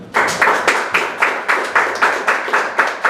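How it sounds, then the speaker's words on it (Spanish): An audience at a book presentation claps to welcome a guest, a loud, evenly spaced rhythmic clapping in unison, about eleven sharp beats, close and without any talk. "lo recibimos con fuertes aplausos"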